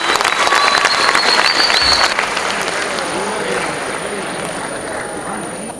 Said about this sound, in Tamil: எங்கே உங்கள் அன்பான கைத்தட்டல் வைபவுக்காக ப்ளீஸ்